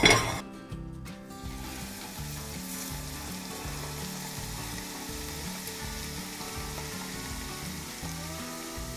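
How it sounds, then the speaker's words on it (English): Steady crackling sizzle of hot oil frying garlic and ginger, close and continuous, with a brief louder burst at the start. "we want this oil to make a little bit of a sizzle when it hits the liquid from the garlic and ginger"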